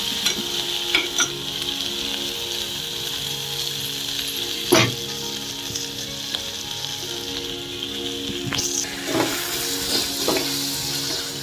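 Okra frying with tomatoes in hot oil for okra gojju, a continuous close sizzle with occasional stirring scrapes and taps against the pan.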